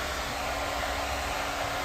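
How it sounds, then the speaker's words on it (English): A handheld blow dryer runs during a round-brush hair blow-dry, giving a loud, constant whooshing roar close by with no break and no voices. "I'm not familiar with this blow dryer"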